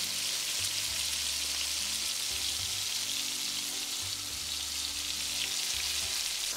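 Beef strips for beef stroganoff fry steadily in a steel pan, a continuous close sizzle with a low intermittent hum underneath and no talking.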